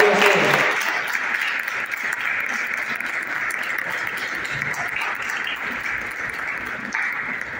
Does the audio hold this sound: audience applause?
yes